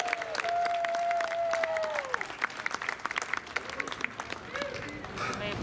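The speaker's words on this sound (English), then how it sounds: "Let's give them all a round of applause." Outdoor crowd applause at a Deadwood, South Dakota street shoot-out re-enactment, a dense burst of many hands clapping with scattered whoops, fading toward the end, with voices mixed in.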